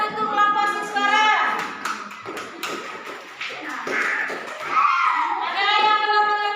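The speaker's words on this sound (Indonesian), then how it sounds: "Tepuk tangan untuk kelompok siswara." Students in a classroom clap for a group of classmates: scattered, uneven claps mixed with children's voices chattering nearby.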